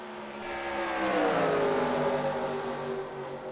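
Race cars on the oval track at Kentucky roar past in a close pack, engines rising and sweeping by in one sustained, smoothly building drone without commentary.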